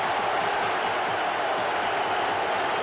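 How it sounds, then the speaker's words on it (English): A football crowd at a 1974 Leeds match roars steadily after a third goal makes it 3-0, a dense, sustained wall of cheering and applause that holds at full strength throughout with no pauses. "He's in with the shot, and he is 3-0! We wanted that third goal, and we got it. John Ritchie, as the crowd erupts."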